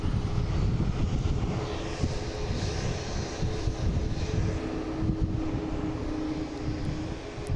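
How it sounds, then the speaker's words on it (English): An Alaska Airlines airliner arriving at Boston Logan International Airport produces a steady, loud engine roar and rumble that holds throughout without any talk. "And we have Alaska Airlines coming in the alley here, making all the racket."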